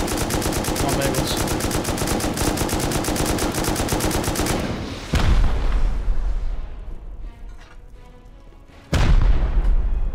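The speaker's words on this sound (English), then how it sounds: "It should be one more rocket." Rocket explosions during a base raid in the video game Rust, with a long stretch of rapid gunfire followed by two loud booming blasts that ring out and fade, no voices.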